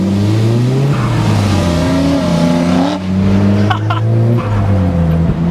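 Muscle cars, including a Camaro alongside an AMG, rev loudly on a Sydney street, deep engine notes rising and falling with gear changes and a brief sharper burst mid-way, close and dominant throughout.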